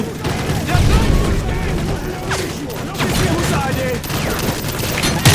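Rapid gunfire and booming explosions from Call of Duty Modern Warfare 3 rattle on loudly and continuously, with a player talking excitedly over the shooting.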